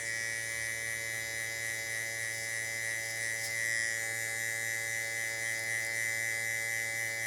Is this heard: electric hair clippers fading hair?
yes